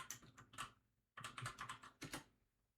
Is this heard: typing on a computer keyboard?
yes